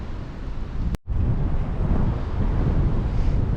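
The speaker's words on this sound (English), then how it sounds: "It is blowing like a good one now. I don't know how many more times I'm going to move, but like I say, this wind's doing my head in." Strong wind gusting across the mic on a River Severn riverbank in winter, a loud continuous roaring rush broken by one brief click and a short dropout near the start.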